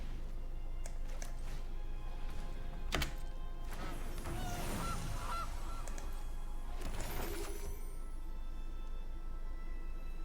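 A goose honks in the Magic: The Gathering card video game, a few nasal honks and a wooden thunk in the middle, set against steady background music.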